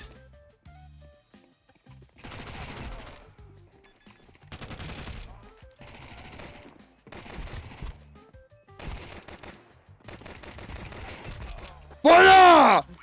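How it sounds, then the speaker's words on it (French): Gunfire in a video game, six separate bursts of rapid automatic shots with short quiet gaps between them, followed by a loud, harsh final blast. "Gaspille tes balles. Gaspille. Gaspille, tire."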